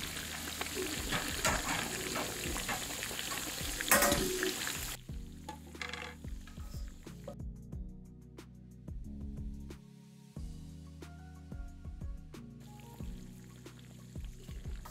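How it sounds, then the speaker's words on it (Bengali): A whole chicken deep-fries in hot oil, with a dense bubbling sizzle that drops to quieter crackles and pops, punctuated by occasional utensil knocks. "এইভাবে আমরা খুব ভালো করে একটু সময় দিয়ে ভেজে নেব"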